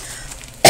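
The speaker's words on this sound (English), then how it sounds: "coughing here" A single short cough bursts out near the end, loud and close, after a quiet stretch, from someone tasting snacks from a Japanese snack box.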